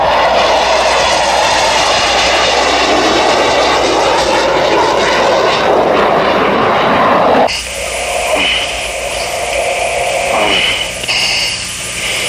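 An F-18 fighter jet roars overhead at an air show, its loud, broad jet-engine rumble holding steady before shifting to a thinner, whining tone as it passes, with no voices.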